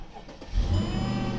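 A Mercedes CLS 55 with a replaced engine cranks briefly, then fires up and settles into a loud, steady idle close by.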